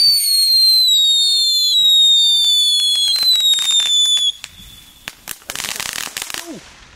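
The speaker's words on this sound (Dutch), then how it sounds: "De Crackling Kings van de Action." Crackling King firecrackers from Action whistle and shriek and then burst into dense, loud crackling, with several sharp pops and a burst of fizzing crackle toward the end, heard outdoors at close range.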